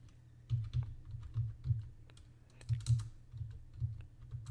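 Fingers type a library card number on a computer keyboard, a series of close, soft key clicks in small uneven clusters with brief pauses between them.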